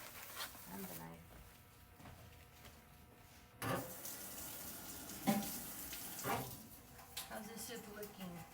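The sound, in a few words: water running from a tap while washing a knife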